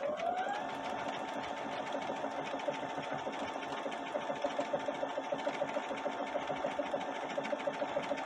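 A Brother embroidery sewing machine stitches a heart design into fabric, its needle running in a steady, rapid mechanical rhythm with a constant motor whine, close and clear with no talking.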